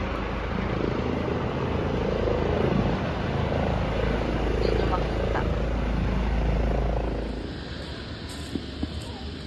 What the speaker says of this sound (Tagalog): Ingay guys, mga helicopter doon guys.